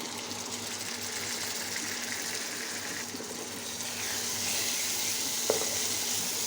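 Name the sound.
beef brain frying with ground spices in pan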